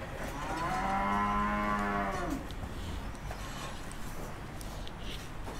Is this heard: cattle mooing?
yes